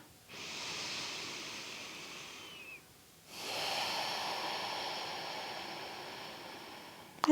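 Slow, deep breathing during a yoga hip stretch: one long, soft airy inhale, a brief pause, then a longer breathy exhale, close and quiet with no other sound.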